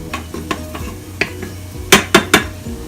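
Garlic and onion sautéing in a Power Pressure Cooker XL, with a soft sizzle beneath a series of close utensil scrapes and sharp clinks against the pot, ending in three louder metallic knocks.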